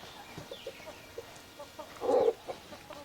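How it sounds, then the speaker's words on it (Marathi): Chickens cluck softly in short scattered calls, with one louder squawk near the end, close by and without talk. "त्या कोंबड्या आत सोडलेल्या असतात"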